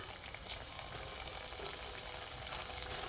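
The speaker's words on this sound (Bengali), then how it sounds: "আস্তে আস্তে আমি ভেজে নেবো লাল করে" Semolina balls deep frying slowly in hot oil in a kadai, a steady dense crackling sizzle throughout, close and even, with no voices.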